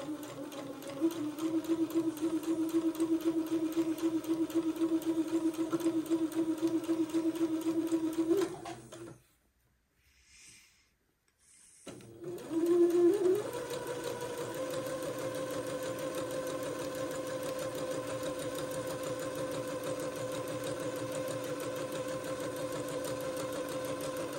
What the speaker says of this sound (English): I'm going to sew the casing.